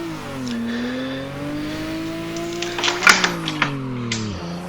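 Car engine in a driving video game at Ebisu Minami, steady drive with rising and falling pitch and a shift down around the middle, followed by a few sharp clicks and bursts.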